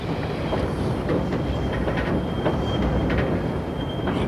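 A train rumbles past nearby with a steady, dense roar, faint rail squeal and clattering wheels, no voices.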